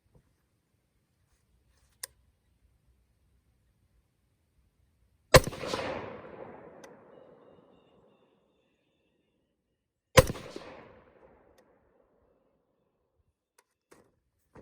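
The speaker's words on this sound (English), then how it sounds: "I took my earplugs out, sent a couple rounds downrange. So 3 rounds consecutively" Two sharp suppressed rifle shots fired through an OSS HX-QD Magnum suppressor at an outdoor range, each a crisp crack with a short fading tail, spaced about five seconds apart, with faint clicks between.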